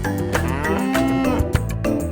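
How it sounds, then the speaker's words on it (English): A long, bellowing moo from a toy cow sounds close and loud, its tone wavering and sliding, with a few clicks around it. "And this is a cow."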